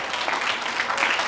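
A group applauds in a room in Italy, steady close clapping from several people with a brief murmur of voices.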